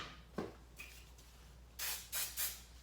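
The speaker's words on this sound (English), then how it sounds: "Little hairspray." Hairspray from an aerosol can spritzed in two or three short, close hissing bursts after a few fainter puffs, with no talking.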